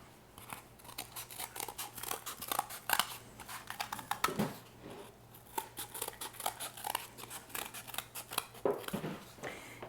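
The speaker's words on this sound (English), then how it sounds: "I'm going to have to trim down this board a little bit." Scissors trim a cake board in a series of rapid, close, fairly quiet snips and crunchy cuts with irregular rhythm while a faint steady hum sits underneath.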